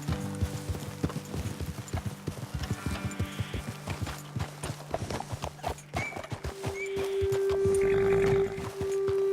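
Horse hooves clip-clop steadily in the Western open-world game Red Dead Redemption 2 as several horses are ridden along, with a brief whinny and a loud sustained tone near the end.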